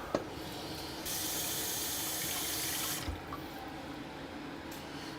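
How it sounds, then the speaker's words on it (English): Tap water runs into a cooking pot in a kitchen, a steady, hissing stream for about two seconds that cuts off with a small clunk, followed by faint drips and quiet room noise. "Then we add some water."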